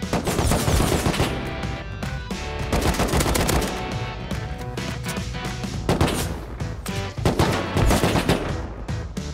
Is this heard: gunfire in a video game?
yes